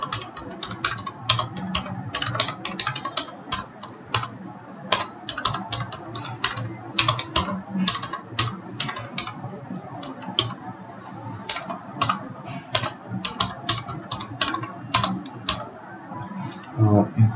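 Continuous typing on a computer keyboard while writing C++ code, a steady run of close, crisp key clicks with a voice talking over part of it.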